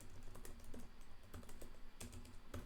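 Quick typing on a computer keyboard, a run of soft, irregular key clicks with a few sharper taps, quiet and close, no talk.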